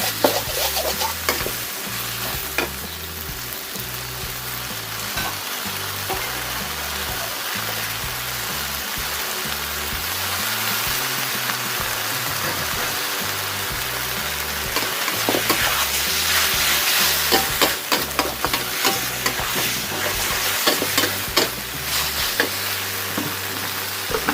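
Cabbage, glass noodles and minced pork stir-fry in a hot pan, a steady loud sizzle with repeated scraping and clanking of a spatula stirring throughout, no voices.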